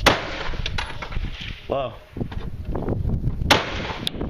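Rifle shots ring out at an outdoor shooting range during a 3-gun match, a couple of sharp cracks amid wind and spoken coaching, one near the start and another past the middle.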